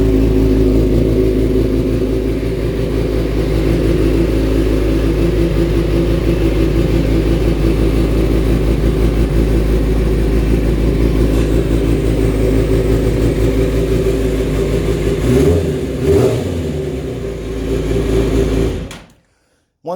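A Suzuki GSX-R 750 motorcycle with its exhaust baffles removed runs loud and close, a deep, raw engine drone held steady with small rev swells, then cut off abruptly near the end.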